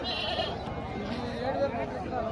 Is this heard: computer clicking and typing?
no